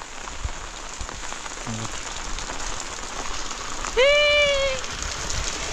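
Heavy monsoon rain falling on a Konkan village, a dense steady hiss throughout. A brief tonal call cuts through about two-thirds of the way in.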